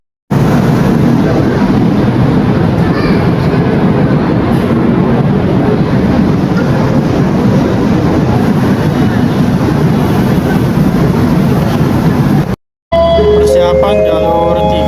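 Train at a busy station platform on the Jakarta–Bandung line, steady loud rumble and hiss of the rail vehicle and surroundings filling the whole stretch, ending in a brief cut to a different, electronic-sounding passage.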